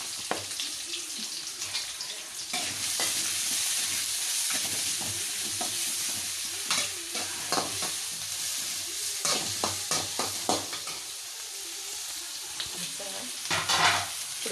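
Chillies, capsicum, carrot and cabbage stir-frying in a pan, with a loud continuous sizzle and hiss and frequent clattering scrapes of stirring throughout.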